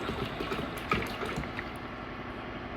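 Mopar 10-year coolant pours steadily into a measuring jug in a truck repair shop, making a continuous soft liquid rush with no talking.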